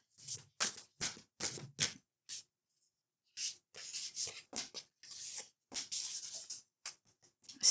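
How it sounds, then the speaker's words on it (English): A tarot card deck is shuffled by hand, giving quiet, close riffling and rubbing bursts in quick irregular runs with a brief pause midway. "We'll put those back in and shuffle again."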